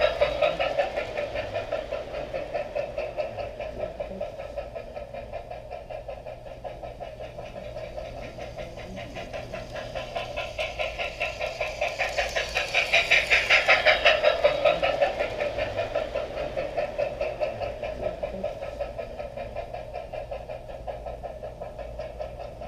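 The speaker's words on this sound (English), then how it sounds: "A mining train keeps itself busy, shuffling cars back and forth throughout the day" A mining train on a railroad shuffles cars back and forth, its diesel engine throbbing steadily at a distance and swelling louder midway before easing off again.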